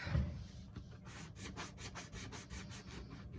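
Repeated rhythmic scratchy strokes of a sanding block scuffing back and forth over a papercraft surface, close and steady.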